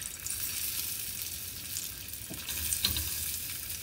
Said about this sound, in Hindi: अब ये ऑयल गर्म हो चुका है, इसमें हम ये सारे आलू डाल देंगे और इन्हें शैलो फ्राई करेंगे।